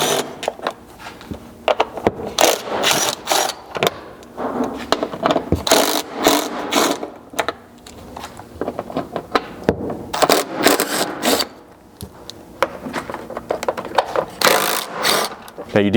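A 10mm ratchet removes six hex head fasteners from the rear bumper fascia of a 2nd Gen Toyota Sequoia, beneath the hitch, giving rapid bursts of close, loud clicking and ratcheting separated by short pauses.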